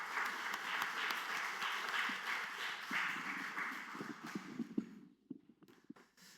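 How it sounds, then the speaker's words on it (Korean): A church congregation at a Sunday worship service applauds the choir and praise team with dense, sustained clapping that tapers off into scattered claps and quiet. "축복하고 격려하는 박수 한 번 더 하겠습니다"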